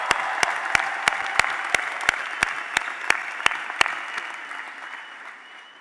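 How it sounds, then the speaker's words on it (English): Graduation ceremony applause at McAllen Memorial High School, a steady crowd clapping with a dozen sharp, evenly spaced loud claps close by standing out, fading toward the end. "Let's give them a round of applause."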